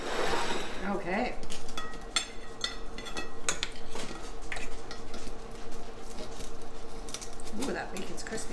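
Knife and fork clinking and scraping on a plate while cutting crispy bacon for a Danish stegt flæsk dish, a run of small metallic taps and scrapes close by, with people talking throughout.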